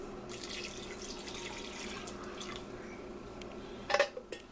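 Chicken broth pours steadily from a can into a pot of potatoes for a few seconds, followed by a couple of sharp metallic clinks near the end.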